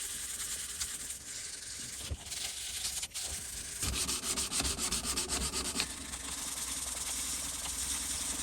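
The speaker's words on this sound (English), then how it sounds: "I'm going to start sanding on these bits here." Continuous abrasive sanding of a steel chisel held in a vise hisses along steadily, close and even, with a few brief pauses and rougher strokes midway.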